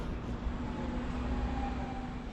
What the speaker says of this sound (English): now we're gonna get back on the train and head back to the city center